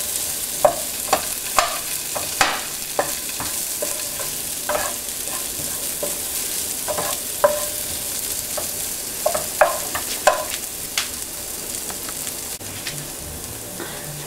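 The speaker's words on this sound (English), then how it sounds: "The potatoes have been frying for 5 minutes and we can see that we have mashed them very small." Mashed potatoes for samosa chaat fry in a pan with a steady sizzle, broken by sharp, irregular scraping and clacking as they are stirred, close and fairly loud.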